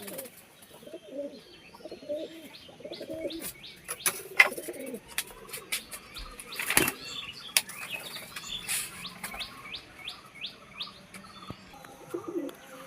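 Pigeons coo in low, rolling bursts while wings flap and clatter, with scattered chirps and sharp bird calls, all close by and steady throughout without any talk.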